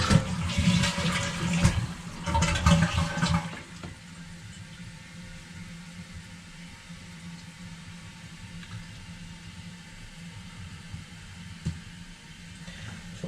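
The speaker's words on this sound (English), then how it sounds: "Let me flush it again and see." Toilet flushed while a bathroom valve is checked for a leak: a loud rushing gush of water for the first few seconds, then a quieter steady hiss and trickle as the tank refills.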